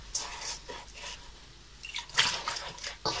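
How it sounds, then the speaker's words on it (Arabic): Water is poured into a pot for washing in short splashy bursts, with quieter gaps and light dripping between pours; no one speaks. "هاديك التشيشة تاعنا ندير فيها شوية تاع ما كيما هاكا"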